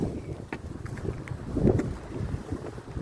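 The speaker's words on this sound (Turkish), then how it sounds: "Deli gibi rüzgar esiyor şu anda." Strong wind buffets the microphone in gusty, rumbling bursts at Sapanca, Sakarya, as a storm starts, swelling briefly in the middle before easing.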